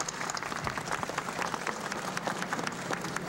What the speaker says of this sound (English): Big round of applause for Jim also today.